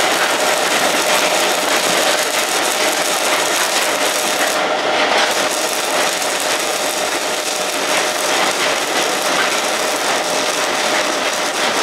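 An MMA200A mini welding machine arc-welds a continuous bead with a 3.15 mm rod. It gives a loud, steady, close crackling hiss that runs unbroken for about twelve seconds, with only a brief dip partway through.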